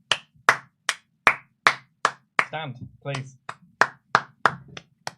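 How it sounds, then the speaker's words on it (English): A wrestling crowd claps in a slow, even rhythm, about a dozen sharp, loud claps spaced roughly evenly, with a brief spoken voice breaking in partway through. "Everybody clap. Everybody clap."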